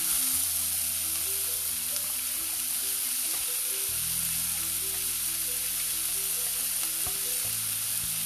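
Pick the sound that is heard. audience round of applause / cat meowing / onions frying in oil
onions frying in oil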